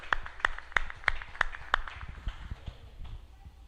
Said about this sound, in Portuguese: Mais uma vez, palmas ao Senhor.